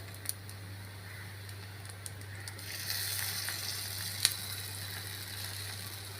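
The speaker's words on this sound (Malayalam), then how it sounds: "ഇതിൻ്റെ മുകളിലോട്ട് നമുക്ക് ഒരു തവി മാവും കൂടെ ഒഴിച്ചു കൊടുക്കാം കേട്ടോ" Batter for a double ada meets a hot pan, a soft background sizzle that swells partway through into a broader, hissing fry, faint and steady, with a single small clink and no talk.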